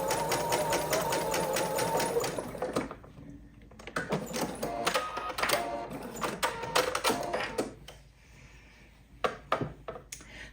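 A sewing machine stitches a fabric dog bandana, running in a steady continuous whir for the first few seconds, then stopping and starting in short bursts with quieter gaps.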